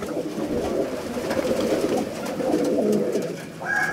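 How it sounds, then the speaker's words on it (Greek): Flock of racing pigeons released at a pigeon festival in Serres, with steady layered cooing and rustling wingbeats close by throughout, no talk. "αυτά είναι τα περιστέρια του Παναγιώτη"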